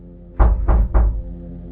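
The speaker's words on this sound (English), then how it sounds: "there was a knock at my front door" Three heavy, evenly spaced knocks land on a house's front door, deep thudding blows heard close and loud in an otherwise quiet room.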